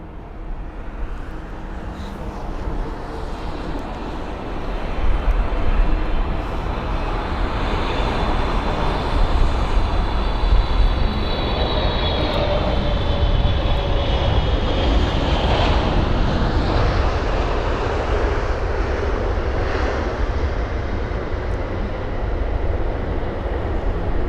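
A Boeing 777-300 airliner on flight MS777 arriving from Cairo at London Heathrow, its engines a broad, steady roar that holds for the whole stretch, with a faint whine riding on top partway through.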